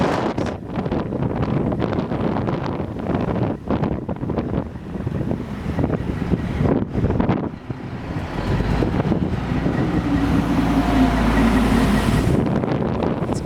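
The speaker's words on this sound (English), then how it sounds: "gusting winds to 30 to 40 miles an hour." Strong gusting wind of roughly 30 to 40 mph buffets an outdoor site where a precast concrete garage floor slab is being installed, roaring continuously for the full stretch with heavy microphone buffeting and no speech.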